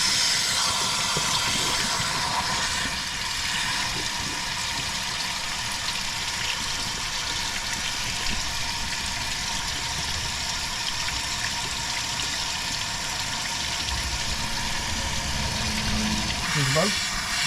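Water and air hissing steadily as they are flushed back through a vehicle engine's cooling system and radiator, a continuous broadband rush with a brief squeal near the end and a voice briefly in the background.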